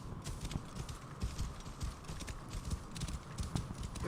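A horse in Assassin's Creed Origins gallops over desert dunes, rapid rhythmic hoofbeats thudding steadily throughout, fairly quiet and heard alone.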